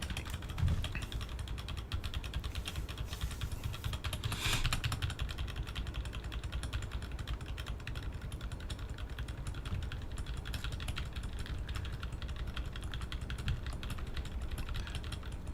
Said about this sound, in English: I know my clicking must be annoying because I hate clicking, but I like the way it sounds.